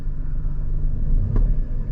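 A manual car pulls off in first gear as the clutch engages and the throttle is added, a low steady engine rumble close by with a slight swell midway and no talk.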